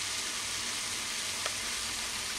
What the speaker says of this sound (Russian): А на сковородке у меня все шкварчит.